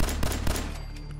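Rapid shots from a 10mm pistol in the video game Fallout 4, a few quick loud pops in a fast burst with ringing tails fading out.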